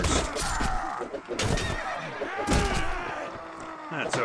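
A horse whinnies loudly and repeatedly in the Mount & Blade: Warband video game, with hoof thuds and impact noise from a medieval battle around it.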